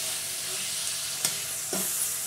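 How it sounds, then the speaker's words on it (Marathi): Onion, tomato and coriander sauté in a pan with a steady, close hiss of frying, broken by two brief stirring knocks. "लालसर कांदा चांगला मस्त परतलेला आहे."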